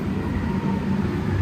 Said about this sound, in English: See, the train is coming